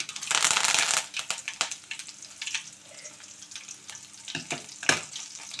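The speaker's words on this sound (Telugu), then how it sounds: "చక్కగా ఇవన్నీ వేయించేసుకోవాలండి" Dried red chillies, curry leaves and garlic cloves fry in a pan with a close, crackling sizzle that flares loudly at first and then settles into irregular spitting pops.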